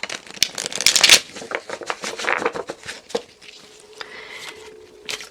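Tarot cards being shuffled during a reading, with repeated crisp riffling and flicking bursts that come close and clear, loudest early on, then thin out into lighter, scattered taps.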